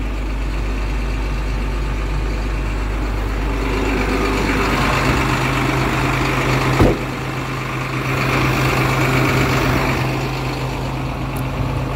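Heavy diesel engine of a 2011 International prison bus idling steadily, a loud continuous low rumble with a faint rise and fall and a brief clunk partway through, no talking.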